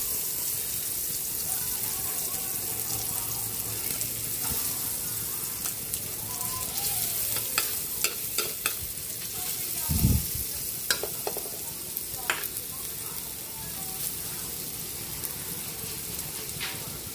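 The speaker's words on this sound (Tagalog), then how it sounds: "Magigisa na tayo." Butter sizzles in a pan as onions and garlic go in for a sauté for a pork ribs kaldereta, a steady frying hiss with scattered clinks and a brief louder bump partway through, no talk.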